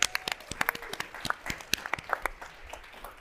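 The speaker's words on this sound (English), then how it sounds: "Just a huge round of applause to you all." An audience at a higher-education event applauds with scattered, quick hand claps that sound fairly faint and thin, lasting a few seconds.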